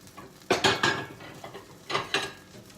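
Ceramic plates clatter and clink as one is lifted from a stack of dishes in a home kitchen, a few sharp nearby knocks in two short bursts, with no voices.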